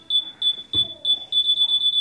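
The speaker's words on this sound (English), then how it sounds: "Oh, it sounds like a ticking bomb." Rapid high electronic beeps from a Moose Toys What's In The Box toy in prank mode, pulsing like a ticking bomb in a steady rhythm with a thump partway through, close and fairly loud.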